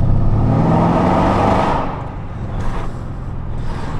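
A tuned Mercedes E63 AMG, about 750 hp, drives through a tunnel, its engine giving a loud, close, reverberant roar that eases slightly midway and then swells again.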